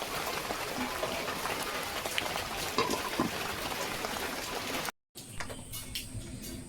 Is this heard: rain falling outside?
yes